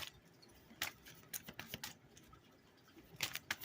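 Tarot cards are cut and handled close by, giving soft papery slides and flicks with a few sharper snaps scattered irregularly across a quiet room, no voices.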